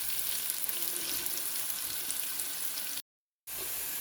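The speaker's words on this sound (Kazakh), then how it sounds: "Сәбізін де өлтіріп, әдемелеп, не қылып, кішкене жақсылап қуырып аламыз" Carrots fry in a pan with a steady, close sizzling hiss, briefly cut off by a short silence before the sizzle resumes.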